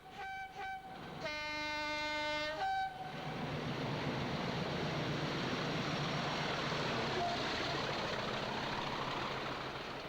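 British Rail Class 40 diesel locomotive 40013 arrives at Saltaire station, sounding a short two-tone horn before the heavy engine roar and wheel rumble swell and hold loud and near.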